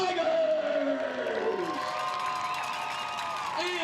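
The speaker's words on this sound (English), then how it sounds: "Let's give a round of applause for Team Tigers" A crowd at a football all-star bowl game cheers and whoops for the teams, loud overlapping shouts and yells with applause underneath, sustained throughout.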